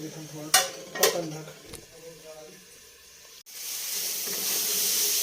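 Tomatoes fry in a pan for besan kadhi, giving a steady sizzle and hiss that swells louder toward the end, with a few sharp metallic utensil clanks early on and a voice talking over it.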